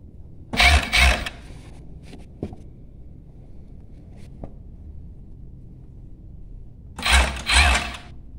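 A sewing machine stitching a homemade sweatshirt, two short loud bursts of rapid mechanical stitching close by, one near the start and one near the end, separated by quiet handling and faint clicks.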